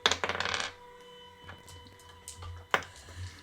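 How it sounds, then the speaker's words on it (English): Dice rattle and clatter across a table during a Dungeons & Dragons-style tabletop game, a burst of rolling clicks at the start followed by scattered taps and a sharp final clack. "there's going to be a lot of sound of dice right now"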